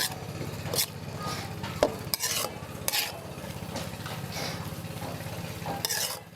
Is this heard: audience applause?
no